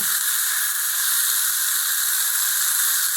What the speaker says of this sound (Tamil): இந்த கலர் மாறுற வரைக்கும் நம்ம கொஞ்சம் வதக்கணும்